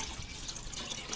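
Water poured into a cooking pot over an outdoor village fire, a steady close rushing splash that runs unbroken and fairly loud.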